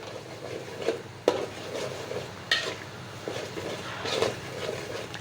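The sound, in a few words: curry sautéing with turmeric in pan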